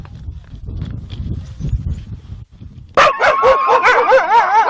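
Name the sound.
Greenland dogs barking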